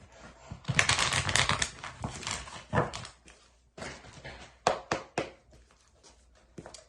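Tarot cards being shuffled and handled close up, a dense riffling burst followed by scattered papery flicks, snaps and taps of varying loudness, with no voices.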